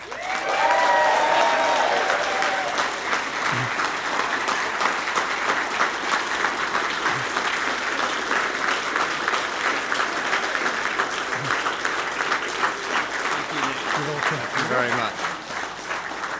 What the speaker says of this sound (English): A big round of applause to the leader of Advance UK, Ben Habib